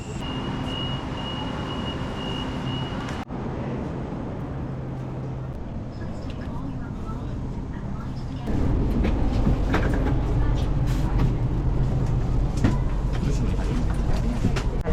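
A high-speed train in Laos rumbles into the station with a steady low roar that grows louder partway through, under a public-address voice and occasional clatter.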